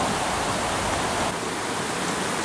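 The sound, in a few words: flowing creek in a wet forest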